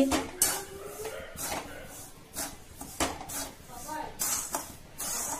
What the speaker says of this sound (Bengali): নাড়াচাড়া করছি লবণটা উত্তপ্ত করার জন্য